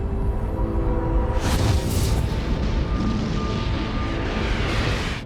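Deep, sustained cosmic explosion effect for a collapsing enormous star: a continuous low roaring rumble that swells into a louder booming burst after about a second, then carries on as a dense, steady thunderous roar.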